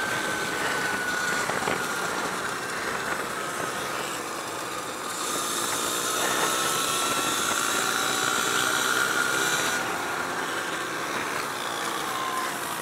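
A Sur Ron Light Bee electric dirt bike runs on an asphalt kart track, giving a steady, continuous whine with wind rush that holds at a moderate level throughout, with no voices.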